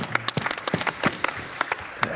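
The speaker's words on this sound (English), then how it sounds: "you can give him a round of applause" Sparse, scattered clapping from a small audience at a cross-country ski race event, honouring a skier's birthday: distinct separate hand claps at a moderate distance, fairly quiet, with no talk over them.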